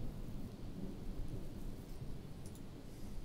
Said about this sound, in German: Oh, es gewittert.